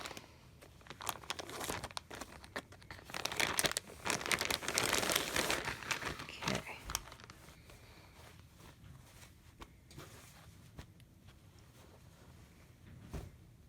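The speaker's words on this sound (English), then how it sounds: "So I stored these in a baggie." A plastic baggie holding signature quilt blocks on muslin is handled, with crinkly rustling that grows loud in the first half and then fades to quieter, occasional crackles.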